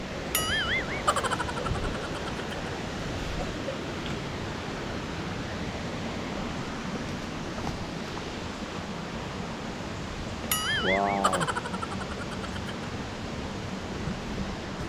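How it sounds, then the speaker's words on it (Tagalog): Dodiongan Falls in Iligan City, a broad, steady rush of falling water heard as an even hiss throughout, with a few brief bright chirps over the top. "Oh, waterfalls na to."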